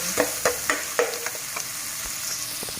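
Minced pork and garlic stir-fried in a pan, with quick rhythmic spatula scrapes over a steady sizzle, strong at first and then fading to softer stirring, with no speech.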